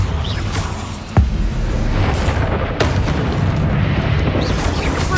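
Booming explosions from a Confringo blasting spell in a Harry Potter video game, a sharp blast followed by another heavy boom over a rumbling, noisy battle background.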